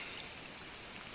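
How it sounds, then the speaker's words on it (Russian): Steady rain falls during a morning of fishing from a pontoon, a dense, even hiss of drops with no pauses or voices over the short stretch. "Снова дождик."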